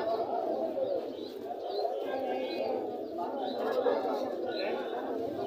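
Pigeons coo and chatter at a crowded pigeon market in Gazipur, a steady murmur of bird calls mixed with people talking.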